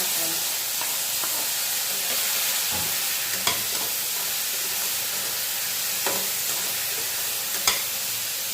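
Garlic and tomatoes frying in oil for Tirupati chutney make a steady close sizzle and hiss, broken by a few sharp clicks of a spoon against the pan, with no talking.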